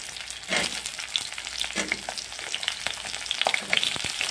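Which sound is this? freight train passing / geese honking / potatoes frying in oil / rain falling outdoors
potatoes frying in oil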